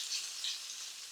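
Vegetables sizzle and fry in a pan for a stir fry, a soft continuous hiss with gentle crackle, close by and steady, with no voices over it.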